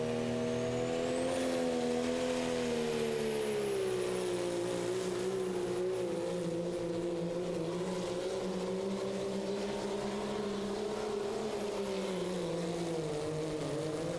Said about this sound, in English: Up next is Russ Harms and the truck called In Harm's Way.